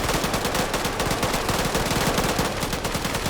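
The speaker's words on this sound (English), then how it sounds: "There's 2 PKMs mag dumping the cache." Two PKM machine guns in an online video game fire in long sustained bursts, a dense, loud, continuous rattle of rapid shots with no pauses.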